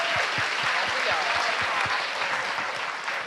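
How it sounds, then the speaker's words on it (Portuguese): Audience applause at a panel discussion on plural feminisms, a steady patter of many hands with some individual claps standing out near the front, fading slightly toward the end. "Palmas para a Joyce."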